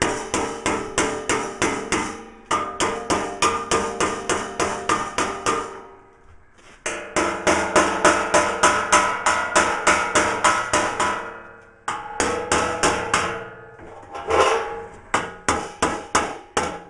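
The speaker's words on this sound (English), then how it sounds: "you can take the end of a hammer like this and get in there and stretch those out." A hammer stretches the sheet metal of a Willys Jeep front panel, landing quick, sharp metallic blows in steady runs of rapid taps. Short pauses split the runs, and no talk is heard.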